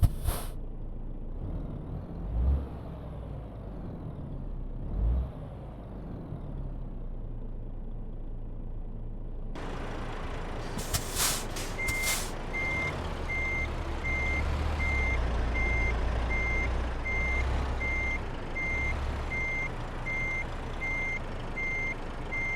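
Truck reversing to park in Euro Truck Simulator 2, a steady electronic reversing beep pulsing over a low diesel engine rumble, with an air-brake hiss and engine noise swelling partway through.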